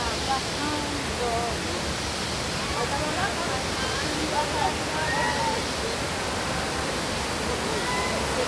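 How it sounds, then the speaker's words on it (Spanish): A waterfall at Panacam roars as a steady, dense rush of falling water, with faint voices and birdsong just audible beneath it. "ahí hay una cascada"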